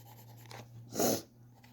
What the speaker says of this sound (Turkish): Ben şu anda bir kara kalem yapıyorum.